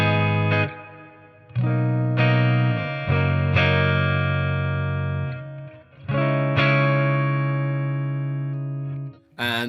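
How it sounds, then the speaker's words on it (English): An electric guitar plays through a BOSS Katana MK2 amp on a clean setting with a long reverb and the high end rolled off, ringing chords and notes trailing off in lingering decays, played alone. "I've got a whole reverb on there, quite a long decay"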